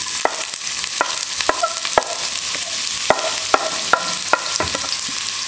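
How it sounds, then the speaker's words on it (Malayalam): Chopped onion frying in hot oil while being stirred for egg bhurji, regular scraping clacks of a spatula against the pan over a continuous close sizzle. "അതിലേക്ക് ആദ്യം തന്നെ അരിഞ്ഞു വെച്ചിട്ടുണ്ടായിരുന്ന സവാള ചേർക്കട്ടെ"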